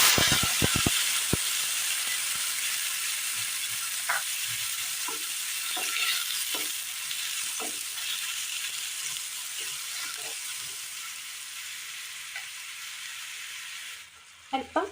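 Dried red chilies and curry leaves frying in a pan with ground coconut paste for a Kerala curry, making a loud continuous sizzle and crackle. Sharp spatters come at the start, then scattered stirring clinks before it drops off abruptly at the end.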